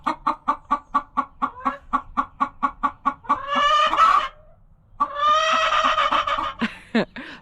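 A hen on a farm with pigs and rabbits clucks in a fast, even run of sharp, close notes. Two longer, louder squawking calls follow, with a brief pause between them.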